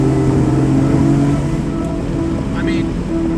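BMW M3 CSL engine drone heard from inside while driving, a steady low hum with tonal harmonics, constant and moderately loud with a faint chirp near the end.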